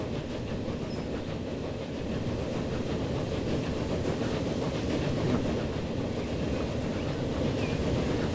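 A train in the video game Transport Fever rolls along with a steady, low rumbling roar and faint clatter, continuous and even throughout.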